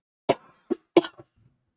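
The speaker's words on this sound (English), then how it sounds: "So apologies if I cough into the microphone a bit much." Three short, sharp coughs close to a microphone, spaced about a third of a second apart, from a man with a tickle in his throat, with no talking in between.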